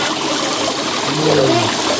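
Water flowing steadily at Tat waterfall, a continuous rushing wash with a faint low gurgle, heard up close with no voices.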